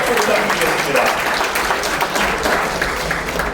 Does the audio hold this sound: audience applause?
yes